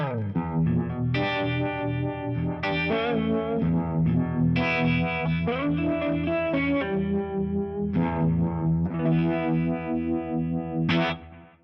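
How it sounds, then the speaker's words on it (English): Electric guitar playing clean, bluesy sustained chords and melodic phrases through a swirling FAS Vibe phaser on an FM3, with a warm, pulsing modulation; continuous and fairly loud, ending abruptly. "the last scene is using the FAS Vibe in the phaser block."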